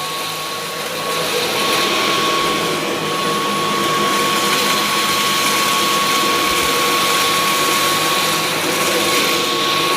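A Dyson V11 Plus cordless vacuum cleaner runs on carpet, its steady high-pitched motor whine and suction roar holding close and loud for the whole stretch without any talk.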